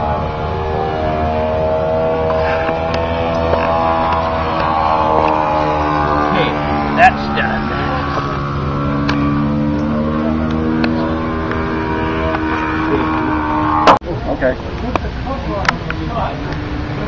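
A Robart R780 seven-cylinder radial engine on a Fairchild PT-23 model aircraft runs at a steady, droning pitch that rises slightly and then holds. Clicks and handling noises sound close by.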